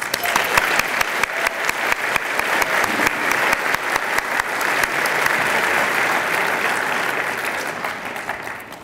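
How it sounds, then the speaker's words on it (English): At a Year Up Providence graduation ceremony, the audience gives a full round of applause for the program's sponsors. The crisp, sustained clapping stays strong before tapering slightly at the end. "Please join me in offering them a round of applause."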